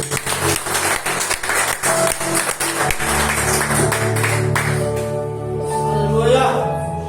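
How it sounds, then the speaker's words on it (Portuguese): A church congregation applauding, with dense, loud clapping for about three seconds before it gives way to sustained music and voices. "Você pode aplaudir Jesus?"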